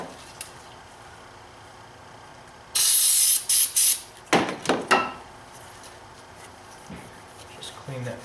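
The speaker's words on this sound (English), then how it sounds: "I'm going to spray a little brake clean on a rag." Brake cleaner sprays onto a rag in a long hissing burst, followed by several shorter sharp spurts, with quieter workshop handling noises around it.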